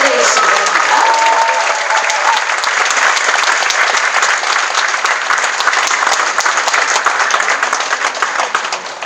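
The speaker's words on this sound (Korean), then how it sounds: "큰 박수로 환영해 주시기 바랍니다." A large audience at a charity talk concert gives loud, sustained applause to welcome novelist Kim Hong-shin onto the stage. Dense clapping fills the hall and tapers slightly toward the end, with a voice heard briefly near the start.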